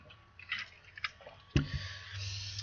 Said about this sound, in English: Let me take another sip of water.